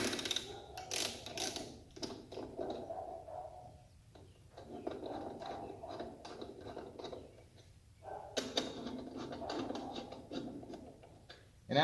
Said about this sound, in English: So let's grab the torque wrench and get those tightened.